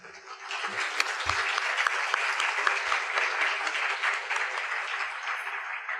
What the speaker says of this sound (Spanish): vamos a darle un aplauso, ¿verdad?, de esa bienvenida que le damos aquí en la universidad.